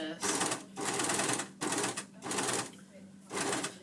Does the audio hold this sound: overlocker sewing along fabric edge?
yes